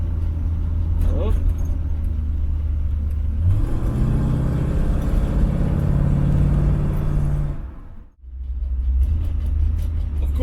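A car fitted with an ACES EFI Killshot fuel injection system idles, then pulls away smoothly with a steady low engine rumble and light rattles, the engine note dipping briefly near the end before resuming.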